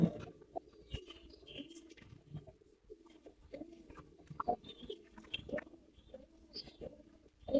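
Golden giribaz high-flyer pigeons coo softly in their pens at a farm, with intermittent low, close coos and light shuffling over quiet background.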